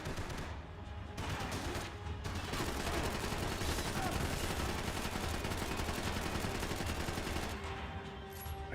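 Dense, sustained gunfire fills a Max Payne 3 firefight, with rapid overlapping shots forming a continuous barrage that swells in the middle before easing off.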